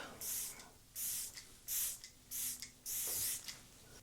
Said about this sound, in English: This little Lisa Eldridge makeup mist.